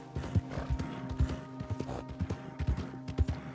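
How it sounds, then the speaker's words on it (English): Horse hooves clip-clop in a steady walking rhythm in Red Dead Redemption 2, arriving back in the town of Valentine; repeated close, moderately loud hoofbeats with a faint tonal game background and no talk. "you can rest your hoof now, horse"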